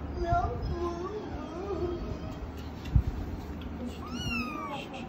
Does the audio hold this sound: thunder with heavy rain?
no